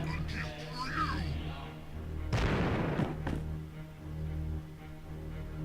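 Cannon fire strikes a squad in Warhammer 40k: Chaos Gate, a single heavy burst of blast noise with a short tail, set between stretches of speech and game background.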